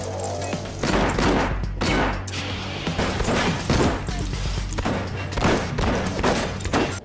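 Dense gunfire from a film shootout, rapid heavy shots in loud overlapping bursts that continue steadily throughout with a low rumble beneath.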